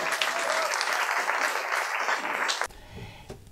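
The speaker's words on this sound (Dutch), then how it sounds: "Een applaus." Audience applause at a pitch event, a dense burst of clapping that breaks off abruptly near the end, leaving a quieter room.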